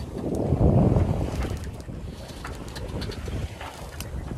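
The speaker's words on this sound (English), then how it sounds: "We're doing right now 5 knots with full sails." Sailboat moving at five knots under full sails, with steady wind and water rush around the hull, louder at first and then a continuous moderate whoosh with faint bird calls.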